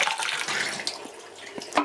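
Water is poured through a film developing tank during black and white film processing, a short close splashing gush that fades.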